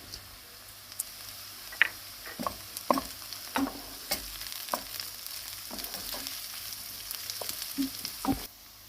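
Onions and peppers fry in a pan for a Turkish minced-meat pide filling, a soft steady sizzle broken by scattered spoon scrapes and clicks as they are stirred, no voices.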